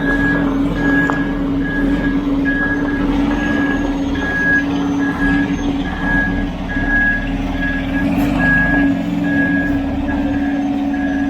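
A truck reverses toward a garage door, its backup alarm beeping in an even, repeating rhythm over a loud, steady engine drone.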